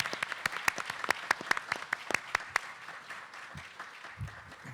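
Audience applause at a comic con panel for classic Fleischer cartoons, sharp irregular claps building briskly then thinning out to scattered hand claps by the end, moderately near in a large hall.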